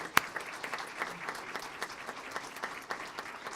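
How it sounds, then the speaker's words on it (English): Applause at a city council meeting honouring an employee of the quarter; a moderate room of clapping hands, steady and fairly even, with one sharp near clap at the start and no speech over it. "Let's give her another round of applause."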